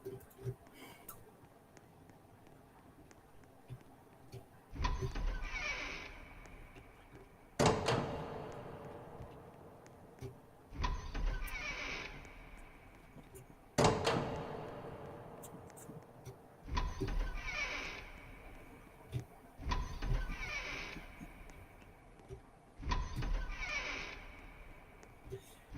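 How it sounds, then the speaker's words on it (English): Doors swinging open one after another in a video game, five or six heavy creaking whooshes spaced a few seconds apart, each starting sharply and fading, with talk faintly between them. "opening doors"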